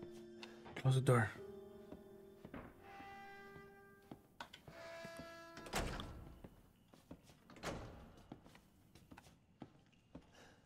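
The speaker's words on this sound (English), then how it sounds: "Close the door." A door thuds shut in Resident Evil 7, a sharp close knock followed by lighter clunks and movement, with someone speaking nearby.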